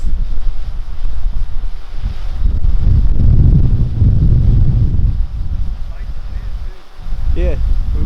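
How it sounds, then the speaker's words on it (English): Outdoor wind at about 10 miles an hour, a steady low rumble buffeting the microphone throughout and swelling in the middle, with faint speech-like sounds mixed in. "we've got probably a 10-mile-an-hour wind out here. You can probably hear it."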